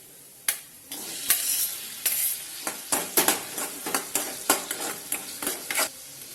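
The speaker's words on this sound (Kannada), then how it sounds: "ಇವಾಗ ಟೊಮ್ಯಾಟೊ ಹಾಕೋತೀನಿ ರೀ." Tomatoes fry with onion and green chili in a pan, a close sizzle punctuated by repeated spoon scrapes and knocks as the mixture is stirred at a brisk, uneven rhythm, with no talking.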